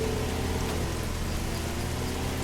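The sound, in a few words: rain falling in Schedule 1 video game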